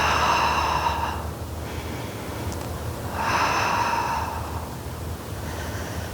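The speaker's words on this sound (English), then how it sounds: "Nice big inhale and exhale." Deep breaths during a Pilates posture workout, two long audible inhales with hissing airflow, each followed by a quieter exhale, close and clear.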